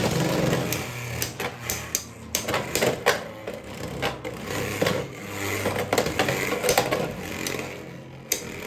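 Beyblade X spinning tops clash in a battle stadium, rattling with rapid clicks and sharp metallic hits over a continuous whirring spin, close and busy.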